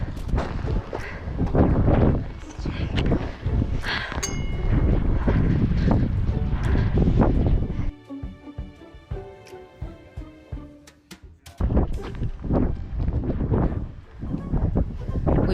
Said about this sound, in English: the wind was just relentless